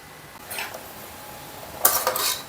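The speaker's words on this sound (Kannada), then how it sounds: "ನೆನೆಸಿರೋ ಹಸಿ ಕಡಲೆ ಕುಕ್ಕರ್ಗೆ ಹಾಕ್ತಾಯಿದ್ದೀನಿ" Soaked raw chickpeas are tipped into a pressure cooker in a home kitchen, giving two short bursts of rattling, clinking grains against metal, the second louder and nearer, over quiet background.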